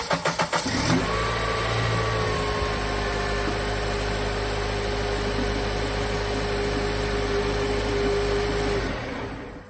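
A Honda Element engine cranks and catches, then runs at a steady, loud idle for several seconds before shutting off, with the power steering pump pulley disconnected during a fluid flush.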